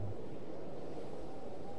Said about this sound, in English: Very windy, huh?